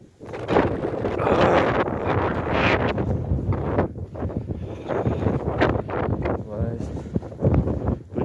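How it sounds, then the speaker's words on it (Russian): Strong gusting wind roars and buffets the microphone continuously in a village winter blizzard, with a person talking over the howling storm. "Обычно в такие зимы такая метель редкость."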